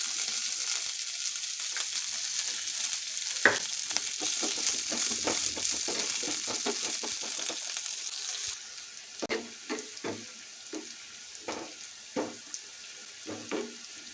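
Oil sizzles and fries in a pan while ingredients for a hing and chilli pickle are stirred, a steady hiss broken by scraping clicks and taps of the spoon, the sizzle fading midway as stirring continues.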